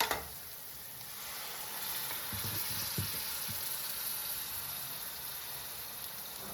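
Masala spices fry in oil in a pan with a steady, soft sizzle, and a few faint clinks and stirring scrapes come early on, with no talk.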